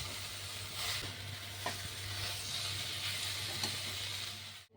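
Soaked rice being gently stirred with spices in a cooking pot for kuska pulao, a steady sizzle with a few soft scrapes of the spoon, close and continuous with no talking.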